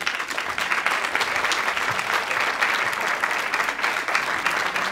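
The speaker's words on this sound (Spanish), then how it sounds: "Fuerte el aplauso para ellas." An audience applauds steadily at a live performance introduction, a dense sustained wash of clapping heard at moderate distance with no pauses.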